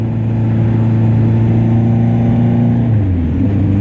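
A car engine drones loudly through an exhaust with new DIY packing at a steady rev, then the pitch drops near the end as the throttle eases off.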